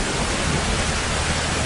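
Heavy, loud rain pours down in a dense, steady hiss with no break, outdoors in a Filipino comedy movie scene.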